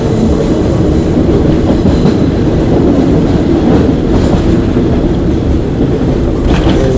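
A train runs along the Death Railway through the Thai jungle, its wheels clattering and rumbling loud and close in a steady, unbroken roar with no voices.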